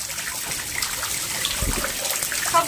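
Rice washed with water at home, giving a steady, fairly loud trickling and splashing wash of water throughout, with no one speaking.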